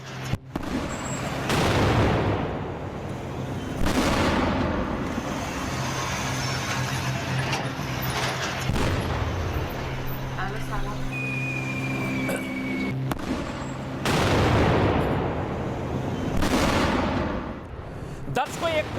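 Heavy explosions from an attack on the city of Isfahan, Iran, with several loud broadband booms spaced seconds apart over a continuous rumbling background.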